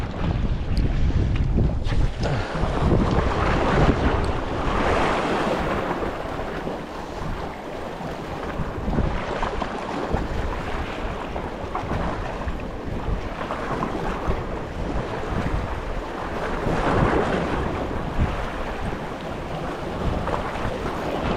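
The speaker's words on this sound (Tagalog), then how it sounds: "lakas ng hangin." Strong wind roars steadily, buffeting hard against the microphone during fishing by the sea, with water and waves rushing beneath it throughout.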